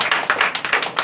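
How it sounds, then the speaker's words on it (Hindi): A church audience claps loudly for a sister during a Sunday sermon, a brisk run of sharp, fairly close handclaps in an uneven rhythm with no voices over it. "एक बार सिस्टर के लिए तालियां बजाओ जोर से"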